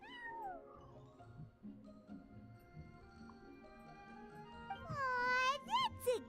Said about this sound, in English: that's a good kitty, Sir Pouncelot.